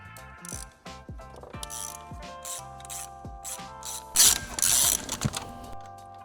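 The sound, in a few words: ratchet turning spark plug socket on Audi 4.0T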